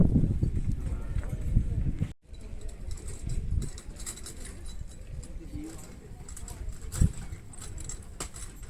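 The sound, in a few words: horse hooves clip-clopping, pulling a horse-drawn carriage through vineyards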